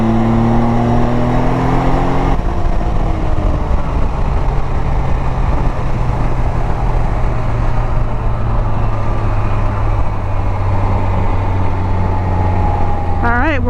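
A Can-Am Ryker three-wheel motorcycle carrying two riders shifts and pulls ahead, its engine droning steadily with rising revs and strong wind rush, loud and close throughout, with a brief rising whine near the end.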